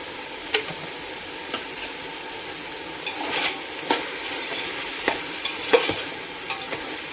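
Masala frying in a pan, a continuous sizzle broken by repeated scrapes and taps of a spoon stirring, close and fairly loud, with no talk.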